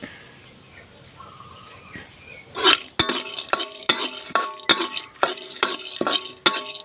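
Chilies are stir-fried in a pan while making sweet shrimp paste, with a utensil scraping and clinking against the pan in a quick irregular rhythm after a quiet start, close and fairly loud, with no talk.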